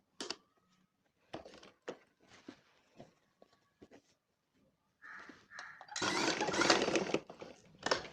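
A sewing machine stitches the collar of a school uniform coat in short separate bursts with pauses between, then runs in a longer louder stretch toward the end.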